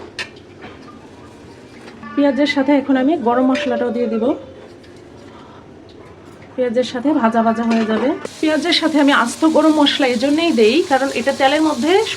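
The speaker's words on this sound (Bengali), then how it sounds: "পেঁয়াজটা ভাজা ভাজা হয়ে গেছে" Onions fry in soybean oil in a pan, a soft sizzle heard under someone speaking at length, with clattering stirring noises and the frying growing brighter toward the end.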